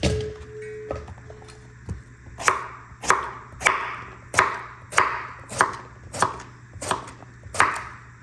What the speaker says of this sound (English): About 1/4 inch thick discs. Slice them up.